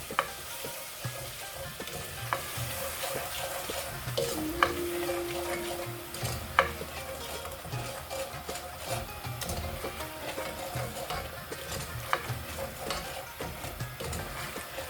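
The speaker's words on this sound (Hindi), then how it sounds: "अच्छी तरह से मिक्स करूंगी ताकि चीनी अच्छी तरह से मेल्ट हो जाए" Sugar is stirred into a pan of milk and vermicelli for sheer khurma, with continuous close scraping and sizzling and occasional sharper clinks of the spoon against the pan.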